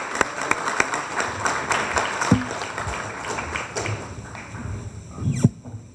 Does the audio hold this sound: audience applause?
yes